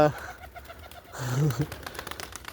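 A pigeon coos once in a short, low, throaty burst close by, with people talking in the background.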